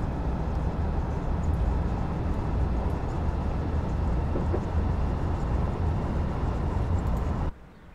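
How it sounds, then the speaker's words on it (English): A Class 150 diesel multiple unit running in Train Simulator, a steady low rumble of engine and wheels on track that holds even and continuous, then cuts off abruptly near the end. "Class 150 power. I love how the engine cuts out like at a certain speed."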